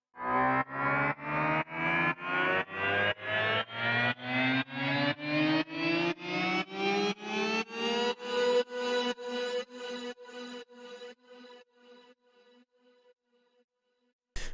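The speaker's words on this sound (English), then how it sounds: "one of my favorite things was creating a riser with a pad." A riser made from a pad in the Guitar Fury library, bent upward in pitch with octaved notes, plays as a series of repeated distorted pulses that climb steadily, then grow quieter and shorter until they fade out.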